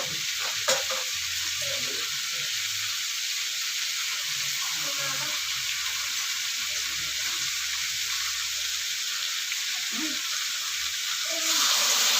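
Steady broadband sizzle of papaya frying in a pan, with occasional stirring scrapes and a brief burst of added water hissing near the end.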